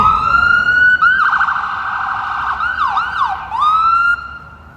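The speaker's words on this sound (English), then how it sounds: "It's an orange ambulance." A loud ambulance siren wails close by on a Toronto street, its tone sweeping and yelping through several cycles before cutting off near the end.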